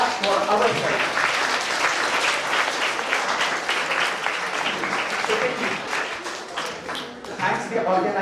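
Loud, dense applause from a student audience at an inter-collegiate English proficiency event, continuous clapping from many hands that swells and dips slightly, with some voices mixed in beneath.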